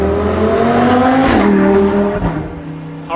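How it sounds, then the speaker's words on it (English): A Lamborghini Huracan with a V10 engine roars past on the Grimsel Pass, its high revving note loud and close, then shifting in pitch and fading as it moves away. "That's the sound of a Lamborghini"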